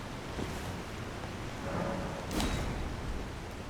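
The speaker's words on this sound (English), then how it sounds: "Waterfall." Rushing water from a waterfall in the Elden Ring DLC, a steady broad roar with wind-like noise, continuous and even, slightly swelling midway, with no voices.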